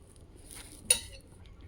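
Spoon stirring a tomato, onion, ginger-garlic paste and dry masala mixture in a pan for paneer bhurji, a faint scrape followed by one brief metallic clink, close by with no talk.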